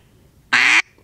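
A duck call blown to imitate a mallard hen gives one short, loud, raspy quack lasting about a quarter second, alone against a quiet background.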